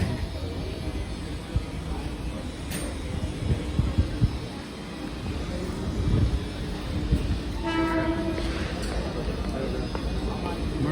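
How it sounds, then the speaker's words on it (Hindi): Train pulling into Ernakulam Town station in Kerala, a steady rumbling roll of railcars with a brief horn-like tone partway through, people talking nearby. "ट्रेन आ गए तो ट्रेन में जाए लगे"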